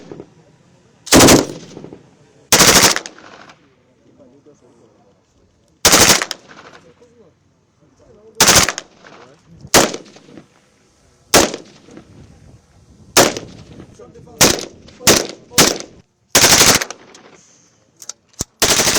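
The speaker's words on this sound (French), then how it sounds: "les essais des armes KCR 556, KMR 762 et les Rafales ont séduit plus d'un" KCR 556 and KMR 762 rifles fired during weapons tests at a defence exhibition: loud, sharp bursts and single shots spaced irregularly across a quiet outdoor background, with a faint voice in the gaps.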